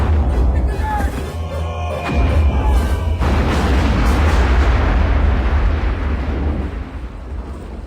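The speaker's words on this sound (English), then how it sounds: "He was blown up by like police and explosions, and you see his body fly apart." A loud movie explosion from a Halloween horror film booms with deep rumbling and crackling debris, then a roaring blast rolls on and slowly dies away.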